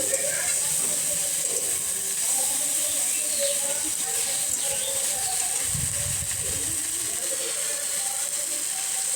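Steady, loud hissing and sizzling as water hits a hot pan, continuing without a break, with a brief low rumble partway through.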